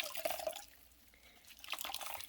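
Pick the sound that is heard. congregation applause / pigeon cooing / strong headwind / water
water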